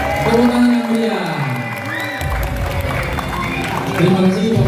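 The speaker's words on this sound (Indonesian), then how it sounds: "Tepuk tangan yang meriah." Crowd applauds and cheers at the launch of the Madfest Merah Putih Indonesian short film festival 2026, a sustained, loud wash of clapping that swells after a brief lull, with voices mixed in.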